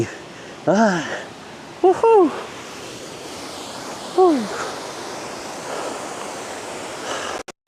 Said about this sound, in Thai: น้ำตกคลองน้ำไหล สวยงามมากๆสดชื่นเย็นสบายดีจังเลย